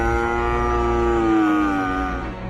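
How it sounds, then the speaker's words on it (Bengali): Tethered cattle give a long, loud, drawn-out moo that bends downward in pitch, close by and alone, in a Sundarbans village setting. "বাঁধা গরুগুলো বাঘটাকে দেখে ভয়ে জোরে জোরে ডাকতে থাকে।"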